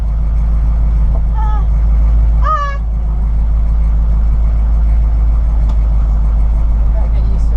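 A converted short skoolie school bus rumbles on its first drive, a loud, steady low engine drone filling the cabin, with a brief honk-like tone and voices speaking over it.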